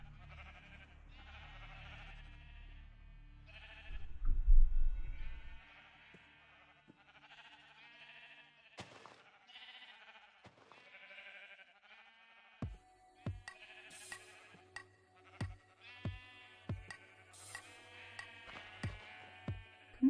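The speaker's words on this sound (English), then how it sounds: "Looks like the pink sheep are just gonna hang out in that corner" Sheep in modded Minecraft bleat in a string of short, clear calls, scattered and repeated, with brief game clicks and thuds between them and no talking.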